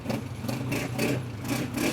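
A used Honda 125 motorcycle engine runs at idle, a steady low, throbbing rumble with a gentle pulsing rhythm, heard alone and fairly close.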